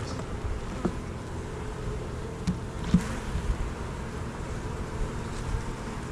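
Honeybees buzzing close around hive frames set among almond trees, a steady droning hum with a few brief nearby passes standing out.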